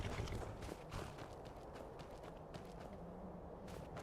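Horse hooves clip-clop at a steady walking pace, fairly quiet, with a soft rhythmic patter of steps.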